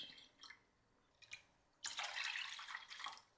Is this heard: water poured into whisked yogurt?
yes